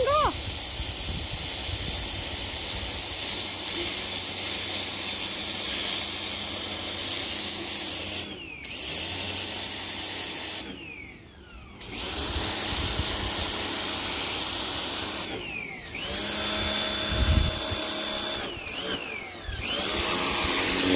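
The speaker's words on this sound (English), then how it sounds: "but this is jet washing" A pressure washer hisses and roars steadily at close range, with brief pauses and changes in the spray, and a motor droning underneath.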